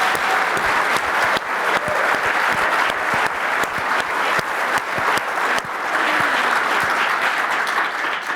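A live audience applauds the original Apple Lisa team at a Computer History Museum 40th-birthday event, a dense, steady wall of clapping that stays loud and close throughout with no voices over it.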